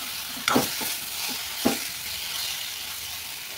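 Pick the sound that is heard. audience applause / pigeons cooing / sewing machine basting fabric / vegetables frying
vegetables frying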